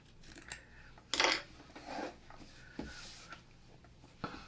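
Scissors snip through quilting fabric in a few sharp, close cuts with small handling rustles between them, no talking over it.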